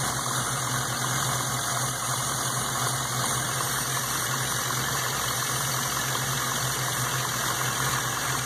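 A car engine runs at a held-open throttle during a PCV breather test, its crankcase breather venting through a larger hose into a can; the sound is a constant, steady engine roar and hiss throughout, with no talking.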